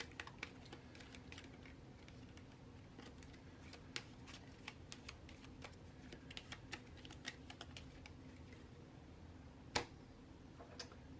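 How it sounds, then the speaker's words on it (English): A villain deck of Marvel United game cards being shuffled by hand on a tabletop, a quiet run of quick clicking riffles and taps with one sharper snap near the end. "I'll take the villain deck and give it a shuffle."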